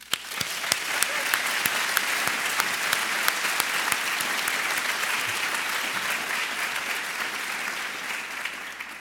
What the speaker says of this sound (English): So if we could, for all those people that I just congratulated, just a round of applause.